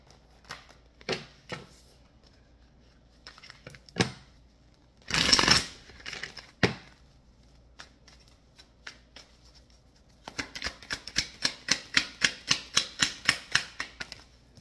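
A deck of tarot cards is shuffled and handled up close, with scattered flicks and a brisk burst of riffling at the end, soft and quiet with no talking.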